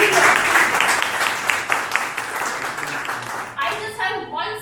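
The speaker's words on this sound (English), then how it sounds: "we need a huge round of applause for all of you" An audience at a Toastmasters club session giving a round of applause, a steady burst of many hands clapping nearby, tapering off as a speaker begins talking near the end.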